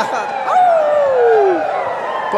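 A wrestling crowd lets out a long sliding howl that rises loud above a general roar, with scattered voices around it.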